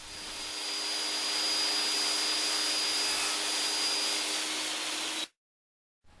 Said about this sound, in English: continue to cut the dados on the rest of the top bars